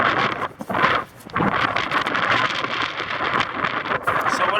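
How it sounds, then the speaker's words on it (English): Strong wind buffeting the microphone on a rocky canyon summit in Nevada, a loud, rough, continuous roar with brief lulls early on. "I'll try to hide behind the rocks so I can block out this wind."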